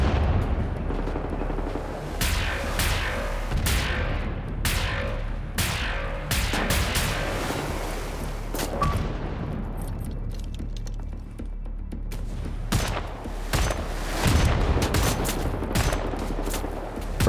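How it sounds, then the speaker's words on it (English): Rapid bursts of rocket launches and heavy explosions in a video game, loud and near, with booming impacts repeating irregularly over a steady low rumble throughout. "Bro, this guy just keeps shooting me"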